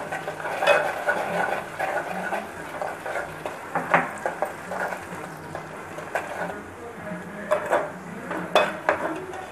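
Ingredients frying golden brown in a pan for a prawn and gongura dish, a soft sizzle under frequent clinks and scrapes of a spoon stirring against the pan.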